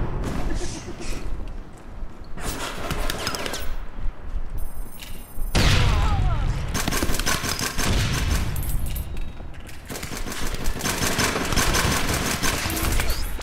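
Gunfire from the APB Reloaded online shooter game: dense, continuous bursts of automatic weapon fire with thuds and booms, loud and close throughout, with no speech.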